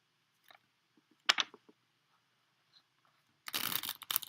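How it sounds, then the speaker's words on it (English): A deck of tarot or oracle cards is shuffled by hand in a small, quiet room: a few soft riffles and taps, then a louder flurry of rapid card flicks near the end, all close and without talk. "Let me shuffle because I usually shuffle all my cards before I go on"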